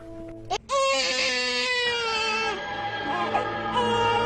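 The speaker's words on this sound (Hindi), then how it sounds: "ये तो बच्चे की रोने की आवाज है।" A baby wails loudly and continuously, a high, sustained cry with wavering pitch after a brief catch at the start, close and unbroken.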